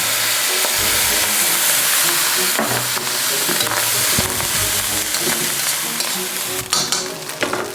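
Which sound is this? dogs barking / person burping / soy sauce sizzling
soy sauce sizzling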